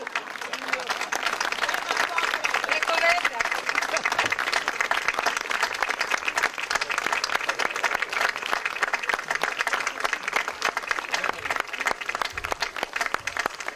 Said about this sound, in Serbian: A sada najveći aplauz, molim te kumo, za mene organizuj to.